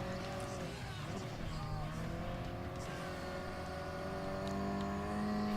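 Acura NSX race car engine in Gran Turismo Sport during a daylight speedway race, a steady droning roar with shifting pitch as it accelerates, continuous and close throughout, with light talk over it.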